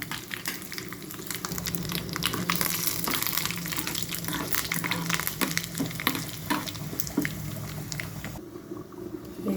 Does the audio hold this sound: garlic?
yes